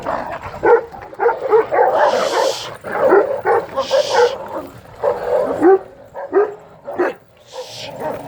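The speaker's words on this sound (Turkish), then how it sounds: "Köpekler birbirine girdiler." A Kangal (Anatolian Shepherd) and a Caucasian Shepherd Dog snarl, bark and yelp in a scuffle, with sharp bursts and whimpers breaking through a steady growling.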